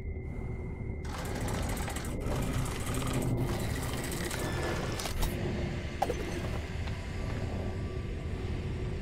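A crank turned to reroute emergency power in the video game Minute of Islands, heard as steady mechanical ratcheting and grinding that runs through the whole stretch with small clicks and no voices.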